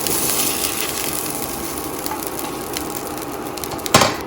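Chicken breast fillet sizzling in a hot pan, a steady bright frying hiss throughout with a sharp clatter near the end, no voices.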